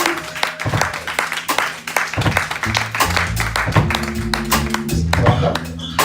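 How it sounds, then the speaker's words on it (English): Audience applause for a performer at a live show, a dense wash of clapping hands carrying on for several seconds, loud and close, with low musical tones sounding underneath. "Round of applause for Zonda James,"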